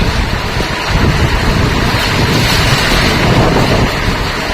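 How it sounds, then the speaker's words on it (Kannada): Strong wind roars during the first rain of the year, a loud, continuous broadband rush that stays steady with slight gusty swells and no pauses. "ಗಾಳಿ ಸ್ವಲ್ಪ ಕಡಿಮೆ ಆದರೆ ಮಳೆ ಜಾಸ್ತಿ ಆಗ್ತದೆ"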